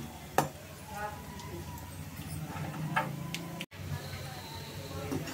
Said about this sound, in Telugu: ఇలా బాగా ఫ్రై చేసుకోవాలండి, బాగా ఫ్రై అవ్వాలి